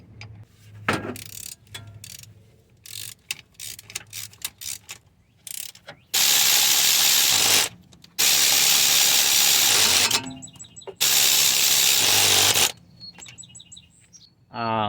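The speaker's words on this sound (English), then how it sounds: "I'm gonna be using this flex head socket here, 14mm socket" A ratchet with a 14mm flex-head socket tightens a bolt during lower control arm and sway bar link work on a 2004–2006 Toyota Sienna, giving quick runs of close clicks followed by several long, loud bursts of harsh mechanical noise.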